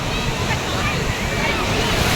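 Sea waves splashing and washing close by in a continuous loud roaring surge of churning water that holds steady throughout.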